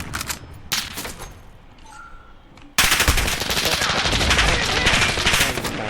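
Rapid bursts of AS VAL rifle fire in Call of Duty: Modern Warfare, a short volley early, then sustained loud automatic fire through the second half, close and dominant.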